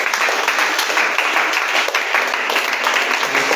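A church congregation applauding during a worship service, a dense steady wash of many hands clapping continuously at close range, alone without talk.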